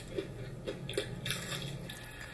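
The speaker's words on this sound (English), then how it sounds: "Before you heard that crunch, your chicken don't sound like that." Crunchy fried chicken bitten and chewed up close, a few quiet crisp crunches spread across a short stretch with no talking.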